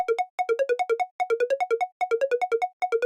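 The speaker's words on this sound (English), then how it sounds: "I have this other sound as well, which is mimicking everything. I'm getting this from Serum." A simple synth pluck patch built in Serum plays short, bright, evenly spaced notes in quick rhythmic bursts of about six to seven, separated by brief gaps, clean and alone with no talking.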